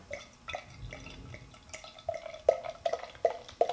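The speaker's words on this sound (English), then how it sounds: "Get a big, nice, aggressive pour on this one." Surly Eight oat wine beer poured aggressively into a snifter, a quiet liquid pour followed by a run of sharp, bright splashing and glugging bursts in the second half, with no talking.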